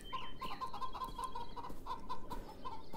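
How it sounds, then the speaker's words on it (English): Chickens cluck in a rapid, regular series of short calls, close and moderately loud, with faint rustling in the background and no talking. "I mean, I like the chickens."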